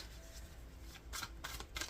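Tarot cards being shuffled by hand, a quiet riffling rustle building into several brisk papery bursts near the end, close and soft.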